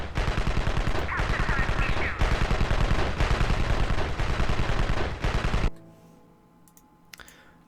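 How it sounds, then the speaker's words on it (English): Sentry turrets in the video game Evil Genius fire in a loud, sustained automatic barrage for several seconds, then cut off abruptly, leaving a quiet game background with a faint voice. "away from any sentry turrets you have, because otherwise they are going to begin shooting at them"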